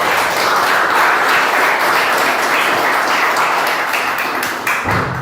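A church congregation applauding together, loud and dense, a continuous roar of many hands that holds steady and then begins to fade near the end.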